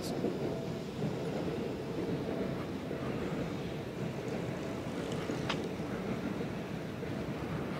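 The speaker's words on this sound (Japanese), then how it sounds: "回送列車です。" An out-of-service Seibu Ikebukuro Line train rolls past Kotesashi Station in Saitama, Japan, at a moderate distance, a steady broad rumble of wheels on rails, with a brief high screech partway through.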